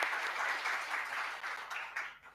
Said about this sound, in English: Please join me in giving another round of applause to Dr. Labastida.